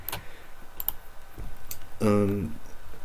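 Scattered keyboard clicks tap out at an uneven pace, with a brief voiced sound partway through.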